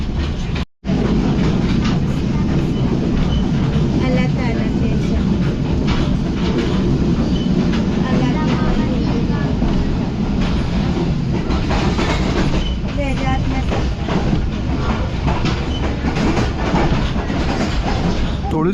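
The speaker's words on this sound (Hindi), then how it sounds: "ट्रेन जो है अब काफ़ी देर से बस इतनी स्पीड में चले जा रही है" The Karachi Express passenger train rolls steadily along the track at moderate speed, a continuous rumble with clickety-clack wheel beats and occasional squeals heard from inside a packed coach.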